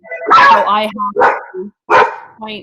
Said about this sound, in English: That's my